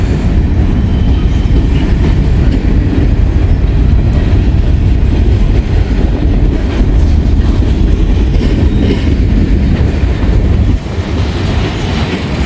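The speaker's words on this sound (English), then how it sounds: "for those of you who like slow trains, here you go" Slow freight train with autorack cars rolling past on the railroad, a loud continuous rumble of wheels and steady clickety-clack heard close up, with no voices.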